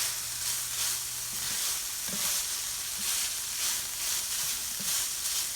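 Garlic and beef brown in a pot with a constant gentle sizzle, joined by occasional soft stirring knocks, with nobody speaking.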